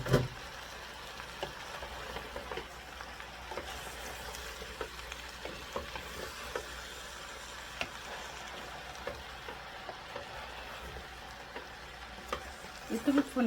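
Red onions fry in a pan for a Rwandan dish with peanuts, making a continuous, moderately quiet sizzle and crackle with occasional small stirring clicks throughout.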